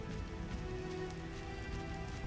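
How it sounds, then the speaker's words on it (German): Rain falls in The Witcher video game as a steady patter of drops on surfaces, moderately loud and continuous, with a faint low ambient hum underneath. "Aber es regnet."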